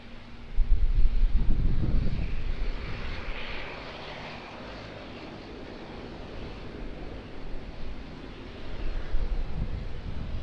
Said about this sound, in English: Just got the Q300 in front of me,